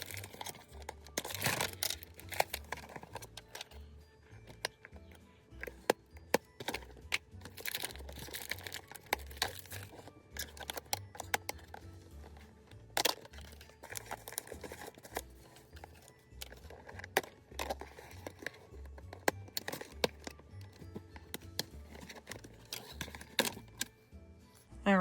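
Doll accessories are cut and pulled free from cardboard packaging backing, giving irregular snips, crinkles and small clicks, close and soft with no talk.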